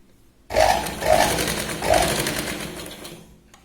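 A sewing machine runs along the edge of a Katori blouse in one continuous close burst with a few surges in speed, then stops.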